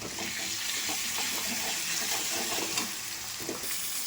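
Onion and garlic fry in hot mustard oil, giving a steady, close sizzle with faint stirring clinks for about four seconds, with no talk over it.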